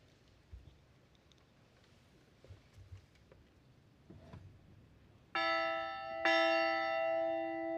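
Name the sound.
bell rung in honor of the graduating class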